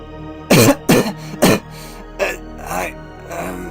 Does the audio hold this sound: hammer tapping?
no